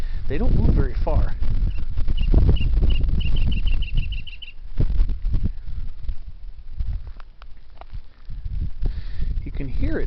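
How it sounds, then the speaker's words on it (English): A small wild bird in Cleveland National Forest repeats a quick series of high, thin chirps partway through, fairly faint beneath nearby talking and crunching footsteps on a trail. "You can hear it chirping."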